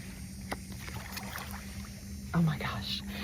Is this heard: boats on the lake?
yes